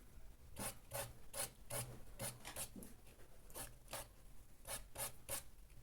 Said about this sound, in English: I will clean my blending stump on a sandpaper.